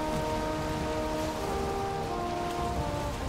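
Storm rain in the video game Valheim, a loud steady wash of rain falling on surfaces, continuous and close, with a faint tonal hum underneath and no talking.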